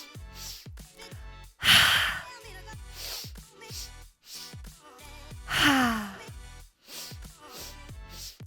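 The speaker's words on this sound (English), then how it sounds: "So it's 3 sniffs in and then a giant fold." Yoga breathing practice: quick sniffing inhales followed by a long audible exhale through the mouth, repeated twice, close and fairly loud with short breathy pulses between, no talking.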